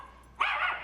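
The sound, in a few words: dogs barking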